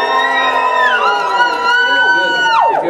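A live comedy audience at the Edinburgh Fringe cheers and whoops in a sustained, dense roar, with shrill individual voices rising above the crowd before it fades out at the end.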